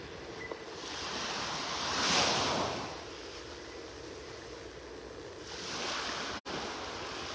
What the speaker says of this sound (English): The tide coming in here, high tide at about 8:45 this morning, getting close to high tide